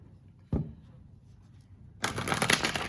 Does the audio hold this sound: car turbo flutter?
no